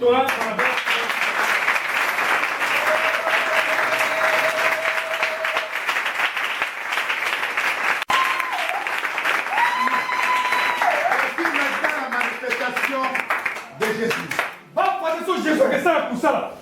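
A crusade crowd in the Central African Republic claps and applauds loudly and continuously. Voices cheer and shout over the steady roar of hands.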